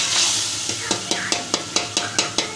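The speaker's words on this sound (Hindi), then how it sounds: "ये देखिए ये आपका तड़का जो है" Tadka spices sizzle in hot oil while being stirred, with a steady frying hiss broken by about ten regular scraping strokes of the spoon close by.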